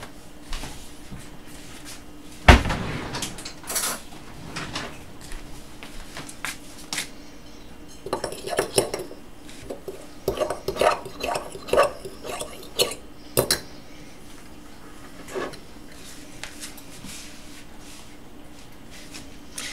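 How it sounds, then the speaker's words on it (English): A spoon stirs cocoa powder into milk and clinks against a cup in scattered bursts, with one sharp knock early on and quieter scraping between. "So now I'm gonna have to stir it, but it will still be clumpy"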